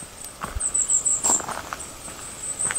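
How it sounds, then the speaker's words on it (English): The first drops of rain starting to fall outdoors, heard as a sparse, irregular patter of light taps against a faint background. "Oh, it's just starting to rain, Jack."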